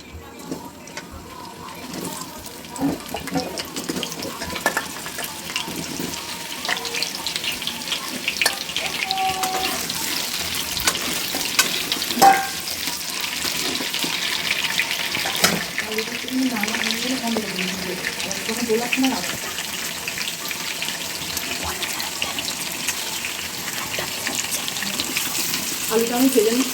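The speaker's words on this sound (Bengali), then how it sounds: "আলুটা আমি ভেজে নিচ্ছি।" Potato pieces frying in mustard oil in a kadai give a steady, soft hiss that runs for nearly half a minute, with occasional clinks and a voice speaking over it at times.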